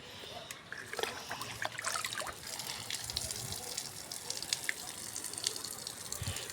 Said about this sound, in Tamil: நல்ல எரு தண்ணி என் செடிகள்லாம் இப்படி தான் நான் ஊற்றுறேன்